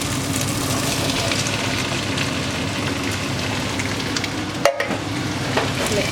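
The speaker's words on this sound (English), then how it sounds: "I've just drained all the brine out of this and rinsed the chickpeas, so I'm now going to add these in." Rinsed, drained chickpeas tipped into a hot pan for a chole curry, giving a steady close sizzle and frying hiss that is briefly broken by a sharp clatter near the end.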